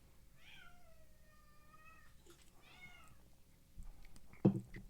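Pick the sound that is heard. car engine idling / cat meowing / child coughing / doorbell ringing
cat meowing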